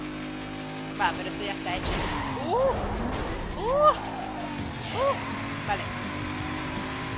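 A car engine drones steadily and revs under hard acceleration during a street race in Need for Speed Underground 2, with someone talking over it in Spanish and brief whooshing swerves.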